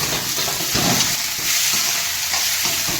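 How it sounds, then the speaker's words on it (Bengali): Tomato and potato pieces fry in a hot pan with a steady, loud, close sizzle, broken now and then by brief stirring scrapes; no voices. "টমেটো আর আলুটা একটু তুলে দেবো একটু ভেজে নেবো"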